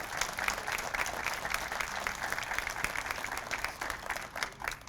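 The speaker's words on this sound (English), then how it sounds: "a huge round of applause for everything" Audience applause at a historic house dedication ceremony, a steady dense patter of clapping hands that holds through the moment, fairly close and without talk.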